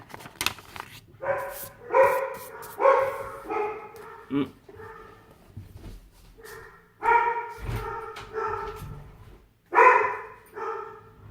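A dog barks in a series of sharp, loud woofs spaced a second or two apart, close by, with softer whimpers and yips between them and no talking.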